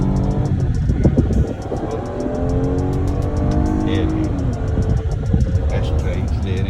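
A 2021 Kia Sorento rumbles along on a test drive, its steady engine and road noise loud and continuous throughout, while people talk over it inside the cabin.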